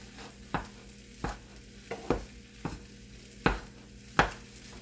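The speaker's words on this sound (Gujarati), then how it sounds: "આ રીતે શેકાઈ જવો જોઈએ." Spiced kachori filling roasting in a pan, faint soft sizzle punctuated by about seven distinct spatula scrapes at a steady rhythm, no talk.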